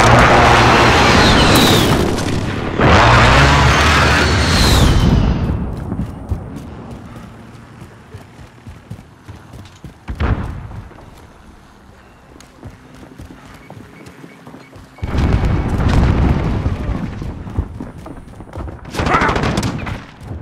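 Precision airstrike explosions in Call of Duty: Modern Warfare: heavy, loud blasts with rolling rumble come at the start, then fainter scattered bangs and gunfire follow, and a second round of strong explosions arrives near the end.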